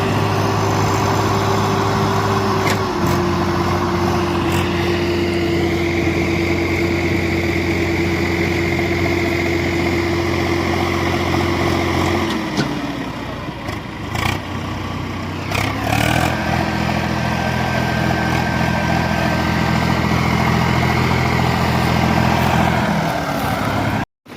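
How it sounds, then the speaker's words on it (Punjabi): A tractor pulling a trolley beside a Preet 987 combine harvester during wheat harvest in Rajasthan: heavy engines drone continuously nearby, a deep steady rumble with a higher mechanical whine that shifts midway as the machines strain and ease. "ਲੈ ਗਈ ਧੂ ਕੇ ਮਸ਼ੀਨ ਟਰੈਕਟਰ ਟਰਾਲੀ ਨੂੰ"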